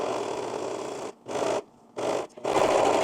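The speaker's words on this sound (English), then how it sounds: "It's going to be very hard for you to hear me speak while the serger is going" A serger sewing machine runs at speed in bursts, stitching around a curve in a pad, with a steady loud whir that stops and restarts four times, brief pauses in between, close up and with no talking.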